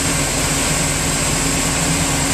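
A Bayliner 2455 boat's fresh-water-cooled engine idles smoothly without variation, loud and close, with a constant low rumble and a faint high whine.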